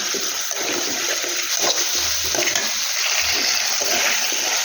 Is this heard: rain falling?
no